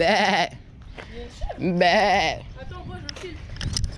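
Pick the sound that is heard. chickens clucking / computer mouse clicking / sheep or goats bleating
sheep or goats bleating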